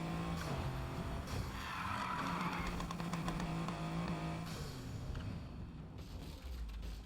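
In the video game Need for Speed, a car's engine roars steadily while tires skid and squeal through a long slide, loud and continuous throughout.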